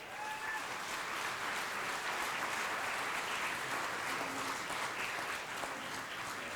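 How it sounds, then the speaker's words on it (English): Sustained applause from an audience at an art and design award ceremony, an even wash of clapping hands that carries on steadily without letting up. "Let's give a big round of applause."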